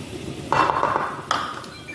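Spices such as ground comino, garlic and salt are stirred into Spanish rice in a pot, making a couple of short scraping clinks of a utensil against the metal with quiet pauses between them.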